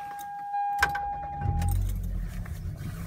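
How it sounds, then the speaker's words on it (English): A 1992 Toyota Celica with its 5S-FE 2.2-litre engine cranks and fires up in freezing weather, a short starter whir settling into a steady low idle rumble, with a high whine and light clatter at the start. "I'm gonna start the car now."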